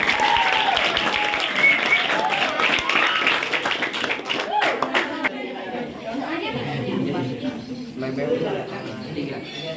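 Crowd applause and lively chatter fill a school hall at a junior high student council candidate debate, strong clapping for about five seconds, then fading into murmuring voices and scattered claps.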